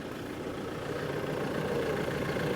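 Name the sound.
Audi TDI car engine idling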